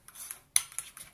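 Spoon stirring apple tart filling with sugar and cinnamon in a bowl: a short burst of close scraping and light clinks against the bowl.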